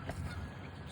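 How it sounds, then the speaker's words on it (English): Geese honking in a park, a dense, steady flock clamor with a few louder close calls over constant outdoor background noise. "There's so much fucking geese here."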